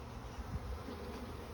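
Honey bees buzzing inside a beehive brood box, a steady low drone heard up close and alone, with no voices.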